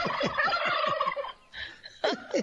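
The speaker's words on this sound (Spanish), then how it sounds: "ahora sí que está haciendo ruido el guajolote" Turkey gobbling outdoors: a rapid, loud gobble rattle, a short pause, then another burst of gobbling, close by with no talking.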